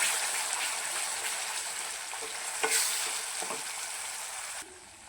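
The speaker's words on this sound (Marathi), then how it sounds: "तर ग्रेव्ही टाकून घेतलेली आहे, याला पण चांगली फ्राय करून घेऊया" Gravy with garlic frying in a pan for a mixed peas and chickpea vegetable dish, a steady close sizzle with a few stirring scrapes, no talking.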